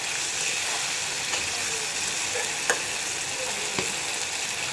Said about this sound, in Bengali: টমেটো কষানো হোক